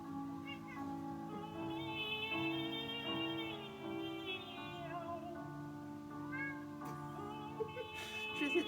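An opera singer imitates cat meows in a sustained, melodic series of sung, gliding meow-like notes, close and clear, with a faint background.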